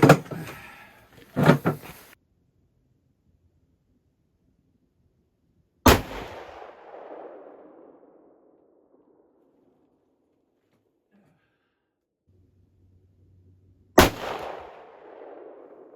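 Three sharp, loud rifle shots from a 25-06 firing a handload with H4831 powder, spaced several seconds apart, each cracking outdoors and trailing off into a long fading rumble, with near silence between them.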